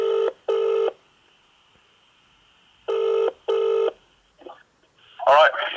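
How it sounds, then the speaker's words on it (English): Touch-tone telephone keys are pressed to dial a number, giving four crisp beeps in two pairs separated by a pause, followed by a brief faint click and a short louder burst of sound at the end. "I'm going to make a phone call to a special someone."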